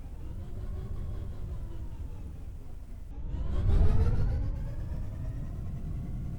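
A steady low spaceship engine hum and whir in the game SpaceBourne 2 that swells into a louder, rising roar midway, then settles back to a constant drone.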